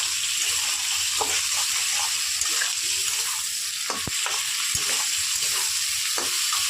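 Sliced ridge gourd frying in a pan gives a steady hiss of sizzling oil, with occasional clicks and scrapes as it is stirred, close and moderate in level.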